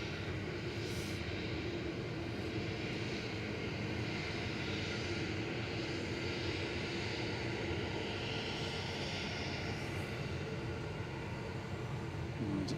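Distant jet engine roar from an Airbus A330-300 at Manchester Airport, a steady broadband rumble at moderate-to-low level that holds throughout without speech.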